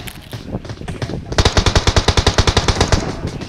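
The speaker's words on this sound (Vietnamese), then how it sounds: "Ơi ơi nó bắn nhau đẩy." Automatic gunfire in the PUBG Mobile video game, a rapid, loud, evenly spaced burst of shots lasting about two seconds after a brief quieter lead-in.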